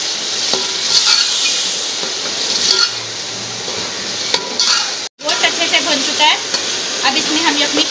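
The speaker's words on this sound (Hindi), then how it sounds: "दो सौ 50 ग्राम दही शामिल कर देंगे और अच्छे से भून लेंगे।" Beef roasting with yogurt in a pot, giving a loud, continuous sizzle with stirring and scraping throughout, briefly cut off near the middle, with no voices.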